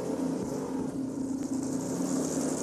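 A side-by-side utility vehicle's engine drones steadily at mid pitch while towing, holding a constant, somewhat muffled strain at moderate distance with no clear rev changes.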